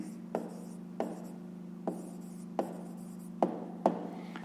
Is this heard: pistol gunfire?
no